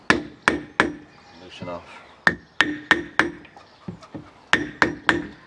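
Sharp metallic-wooden knocks as a block of wood or metal is hammered to loosen a fuel stand pipe on a Chinese heater in a VW Transporter, about a dozen uneven strikes with a brief spoken phrase between them.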